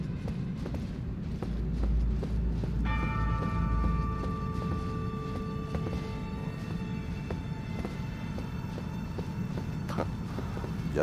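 Small bells ring in the video game Elden Ring, a thin sustained chime that rises partway through above a constant low rumbling game ambience with faint tapping.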